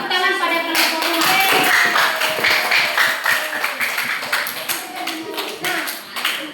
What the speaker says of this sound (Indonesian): Oke, beri tepuk tangan pada kelompok rumah.